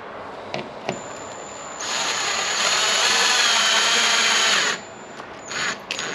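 Screws are driven by a power tool while a conversion kit is installed on a Cadillac CTS-V Sport: scattered taps, then a steady close whine of about three seconds, followed by a couple of short bursts.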